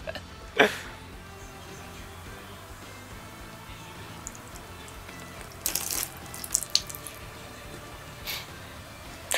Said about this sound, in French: si je retourne le verre, l'eau ne le coule pas